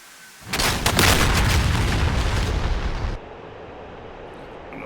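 Bombs dropped from an F-15E strike jet explode in a DCS combat flight game, a loud, sustained rumbling blast that rolls on for a few seconds before dropping abruptly to a lower background hum.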